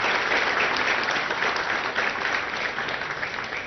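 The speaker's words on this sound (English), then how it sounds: "So I think a good round of applause to the entire team on that." Loud, dense audience applause fills a ceremony hall marking the 100th Apache fuselage, sustained clapping from a large crowd that tapers slightly toward the end.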